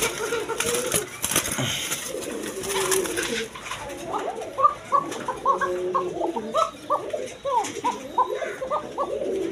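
A Basiraj Koka pigeon, a red male and female pair, coos in a repeated rhythmic series of soft throaty calls, close up, after a brief stretch of louder noise at the start.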